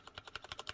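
Rapid typing on a mechanical keyboard fitted with o-ring sound deadening, about seven close, evenly spaced key strikes, muted and soft, with no voices.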